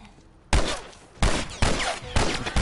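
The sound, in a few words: gunfire in video game The Last of Us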